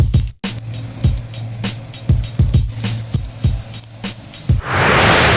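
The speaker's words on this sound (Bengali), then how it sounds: "এবার একে একে সব ডিপ ফ্রাই করি।" Potato snacks deep frying in hot oil, a steady close crackling sizzle with repeated pops and splatters that swells into a loud hiss near the end.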